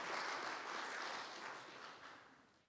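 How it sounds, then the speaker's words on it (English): Applause from an audience at an anti-corruption round table panel discussion, a soft, even wash of many hands clapping that gradually fades away. "give them another round of applause"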